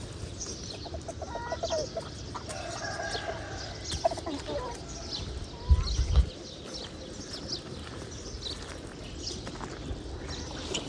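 Several hens cluck intermittently against a busy outdoor farmyard background, with a louder burst of fowl calls partway through.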